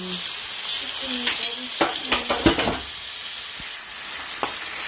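Chicken pieces frying in a pan for sotanghon guisado, with bursts of sizzling and clattering stirring that swell in the middle, close and moderately loud.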